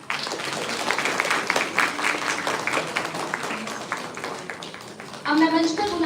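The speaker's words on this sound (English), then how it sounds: "Clap for them, guys" Seminar audience clapping in a hall, fairly loud and steady at first, thinning out before a voice comes in near the end.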